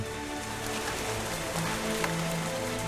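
Steady rainfall patters down on a rainforest without a break, a dense wash of droplets with a few sharper drips standing out.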